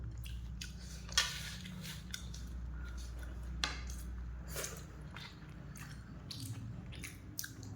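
Someone chews fish roe with hot rice at close range, with soft wet bites and a few sharper clicks of cutlery or teeth in an uneven rhythm, all faint and without speech.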